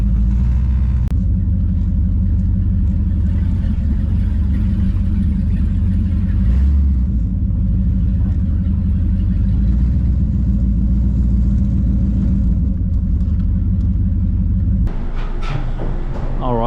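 Steady low engine rumble of a car driving slowly and maneuvering to turn around into a garage at a classic car show, sustained throughout with a shift in tone near the end.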